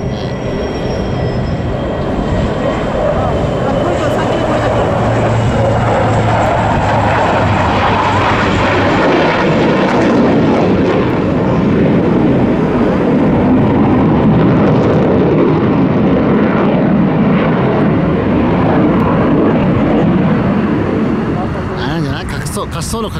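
Aircraft flying low over the runway at Kadena air base, a steady broad roar that stays loud and continuous throughout with a rumbling low end, as if passing close overhead.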